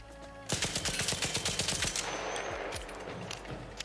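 A rifle fitted with a Compensator mod fires a rapid burst of about fifteen evenly spaced, loud close shots in ARC Raiders, then an echoing tail fades into the background.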